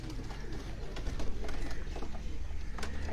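Pigeons on a rooftop loft coo in low, repeated throaty murmurs, close and steady, with occasional wing flutters over background noise.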